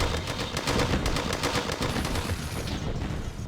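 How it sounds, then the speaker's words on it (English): Rapid bursts of automatic gunfire crackle in a battle in the strategy game Command & Conquer: Tiberian Sun, dense and continuous for a few seconds before thinning out. "Something is being fired upon."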